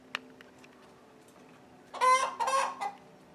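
Chickens near a backyard coop, with a couple of loud clucking calls close by after a brief click, over a quiet steady hum.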